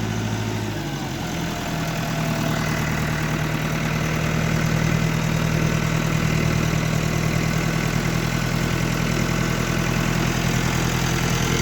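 A Massey Ferguson 5450 tractor engine runs steadily and loud nearby, a continuous low rumbling drone whose pitch settles slightly early on as it switches from four-wheel to two-wheel drive.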